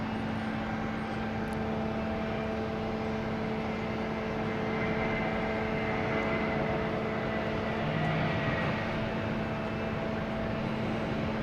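A JetBlue Airbus A320 jet at Boston Logan Airport, bound for Raleigh-Durham, gives off a steady, loud engine roar with a constant low hum and some high whine, unbroken and without voices.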